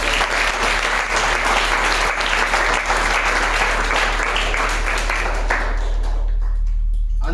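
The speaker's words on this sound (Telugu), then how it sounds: "అందరం ఒకసారి గట్టిగా చప్పట్లు కొట్టి దేవుని" A church congregation claps loudly in a dense, sustained burst of applause that thins and fades over the last second.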